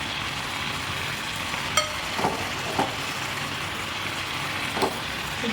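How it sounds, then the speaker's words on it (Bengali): Chicken frying with ground coriander, ginger-garlic paste and salt in a pan for Bengali chicken kosha, a steady sizzle with a few soft scraping stirs of a spatula, close and alone. "খুব ভালো করে নাড়িয়ে চাড়িয়ে মশলার সঙ্গে চিকেনটা কষিয়ে নেব।"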